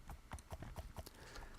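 Hooves of a mule in the Minecraft video game clip-clop in a quick, steady rhythm. The footfalls are faint and muffled, with no talking over them.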